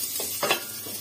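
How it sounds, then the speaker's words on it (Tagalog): Onion and garlic sizzle briefly in a hot pan, a short close frying hiss with a couple of stirring scrapes and no talking. "Magigisa sa sibuyas at bawang."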